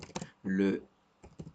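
Soft clusters of keyboard clicks come at the start and end as someone types text, with a short spoken word between them.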